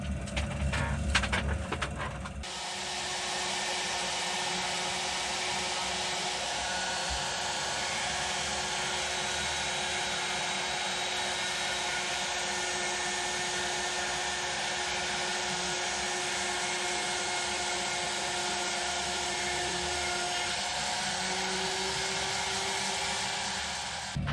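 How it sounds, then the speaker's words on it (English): A power tool grinds steadily across an ammonite fossil from the Whitby Jurassic coast, a continuous loud abrasive whine and rasp that holds for over twenty seconds after a brief rougher start, with no talking. "We'll grind round again."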